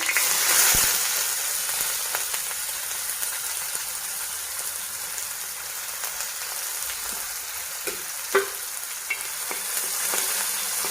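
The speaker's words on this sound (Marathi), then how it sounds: "छान तळून घ्यायचा कांदा" Steady sizzling of finely chopped onions frying after cumin and mustard seeds in a hot iron pan, with occasional light stirring scrapes and clicks; no voices.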